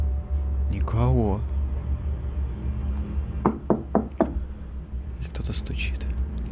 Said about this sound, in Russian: Кто-то стучит.